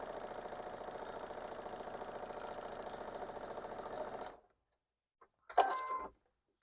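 Home sewing machine stitching fabric a quarter inch from the edge, a steady close mechanical whirr running for about four seconds, then a stop and a brief burst of motor noise.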